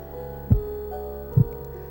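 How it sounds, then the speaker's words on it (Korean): The heartbeat of a hibernating golden bat sounds as two soft, low thumps about a second apart over a steady background hum. "황금박쥐의 동면시 심장 박동수는 1분에 약 50회"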